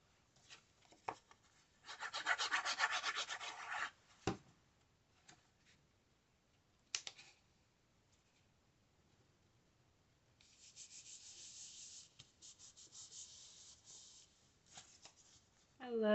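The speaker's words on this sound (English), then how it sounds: "I love Cartabella paper. You can hear it, like the texture." Dry rubbing and scratching of textured Cartabella paper in a few bursts, close and fairly quiet, with short pauses and small taps between strokes.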